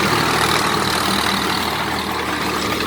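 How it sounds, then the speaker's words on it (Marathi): Tractor tilling soil in a mango orchard, a steady, loud, close diesel engine drone with low rumble throughout, no talk. "तर आपण बघू शकता की अशा पद्धतीनं ही ट्रॅक्टरची मशागत आपण करून घेतो आहे।"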